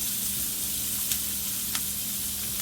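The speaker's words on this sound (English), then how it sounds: "These are the seasonings you're going to take to fry up the saltfish" Scallion, onion, thyme, garlic and tomato seasonings fry in a pot for saltfish, making a loud, unbroken close-up sizzle with a couple of brief sharper crackles.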